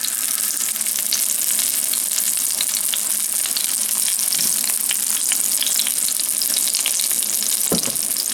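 Fresh turnip greens fry in olive oil in a cast iron pan, giving a loud, continuous crackling sizzle that stays even throughout, with a soft clunk near the end.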